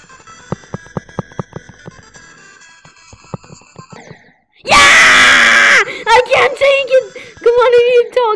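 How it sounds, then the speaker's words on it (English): A person screams at full volume in sustained, strained bursts over a rhythmic electronic game soundtrack while playing Geometry Dash, followed by further loud vocal wails. "I started screaming to the top of my lungs"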